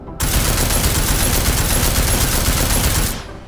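Automatic rifle fire in Deus Ex: Mankind Divided, a single sustained loud burst of rapid shots lasting about three seconds, close and alone, cutting off abruptly.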